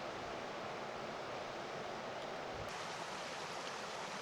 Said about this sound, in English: Another stream on my GPS and another stream with decent flow.